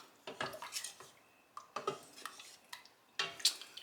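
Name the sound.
stirring pectin into chokecherry syrup in a pot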